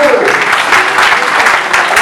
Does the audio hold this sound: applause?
yes